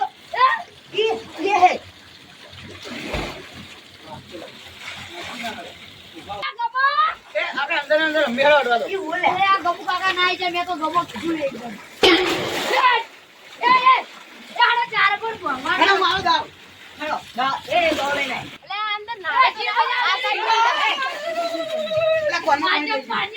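Water splashes and pours as people bathe, with continuous chatter and shouting voices layered over the splashing throughout.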